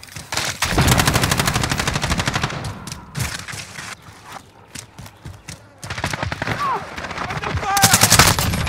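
Sustained automatic gunfire from a Call of Duty match on the Shoothouse map, played on Xbox One: dense rapid bursts of shots with short lulls, loud and close, with radio-style voice callouts mixed in.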